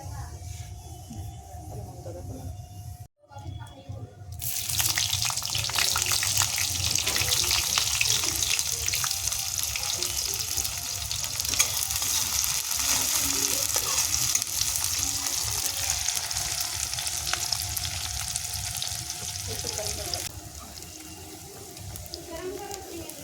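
Steady loud sizzling of onion, green chili and garlic frying in hot oil on a traditional clay stove, with occasional stirring; the crackle swells after a brief pause and continues throughout.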